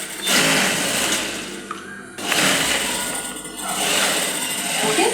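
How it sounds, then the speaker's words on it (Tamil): A sewing machine stitches two skirt layers together along the wrong side, running in steady loud bursts with a brief pause near the middle before resuming. "இப்போ 2 லேயர்ஸையும் ஒன்றா வச்சு ராங் சைடில் தைச்சிட்டு இருக்காங்க"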